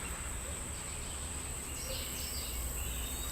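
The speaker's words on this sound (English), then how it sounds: "Enjoy the sounds of the birds here in Costa Rica." Birds chirp faintly in Costa Rican outdoor ambience, with insects buzzing steadily in the background and no voices.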